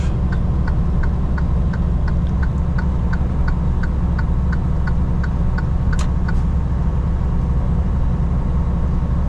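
Steady low engine drone and road rumble heard from inside a truck cab on the highway, with a regular ticking, likely a turn signal, repeating over the top throughout.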